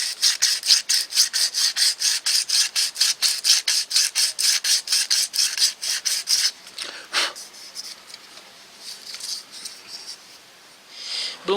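Hand sanding with medium-grit abrasive, quick regular back-and-forth strokes close and fairly loud, then the rhythm breaks off into a few scattered scrapes and quieter handling.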